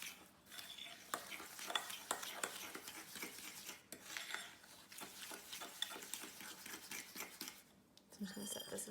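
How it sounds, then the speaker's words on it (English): A spoon stirs and scrapes through cinnamon roll filling in a bowl, close rhythmic strokes with clinks against the dish, while a person talks over the mixing. "mix it until it's really well combined"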